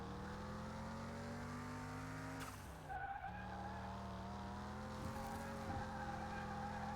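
An Audi TT 1.8T races around a track in Car Mechanic Simulator 2021, its engine droning steadily with a brief dip as the tyres lock up under braking, then pulling back up to a continuous hum.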